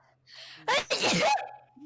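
A single sharp sneeze bursts out at close range, preceded by a quick inhaling gasp and followed by a softer tail, with faint low background hum during a tabletop role-playing game session among friends.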